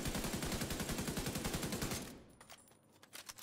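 Rapid automatic weapon fire from The Division 2 video game: a loud, continuous burst of fast shots for about two seconds, then fading echoes and a few scattered quieter cracks.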